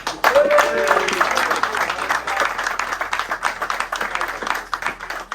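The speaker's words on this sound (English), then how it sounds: "And we have a big round of applause" Applause from a small group at a karting club prize-giving at Sutton Circuit, a dense patter of clapping lasting several seconds, with voices talking and calling out over it.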